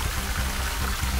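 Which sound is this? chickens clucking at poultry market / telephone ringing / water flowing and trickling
water flowing and trickling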